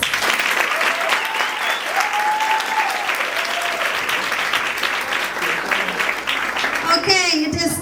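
A hall full of students at a secondary school grade 12 awards ceremony claps loudly and steadily, with voices and cheering mixed into the sustained applause.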